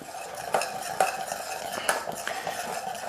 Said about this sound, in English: and then keep stirring it